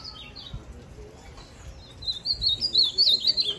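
A caged azulão, or blue grosbeak, sings a bright warbling phrase that grows louder toward the end, after a few fainter chirps, with some low background noise beneath.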